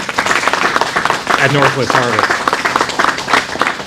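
Applause and clapping for staff at Northwest Harvest, heard under a voice that talks over most of the short stretch.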